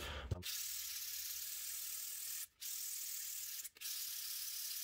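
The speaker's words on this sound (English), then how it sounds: "So when you scuff it with sandpaper like that, you can obviously see the lines in it." Sandpaper scuffs steadily across a 3D-printed compass part, a continuous hissing rasp that pauses twice briefly before resuming, close and fairly quiet.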